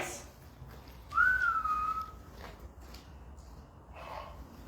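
A single clear whistle rises then holds steady for about a second over quiet background noise, heard inside a mine, with a faint knock or two afterward.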